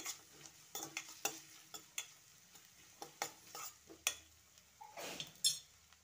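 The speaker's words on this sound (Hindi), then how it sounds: "इसको थोड़ा सा सॉफ्ट होने तक इसको फ्राई कर लेते हैं।" Quiet frying with a low sizzle as a utensil stirs and clinks against the pan in irregular taps, vegetables for gobi manchurian softening in the pan.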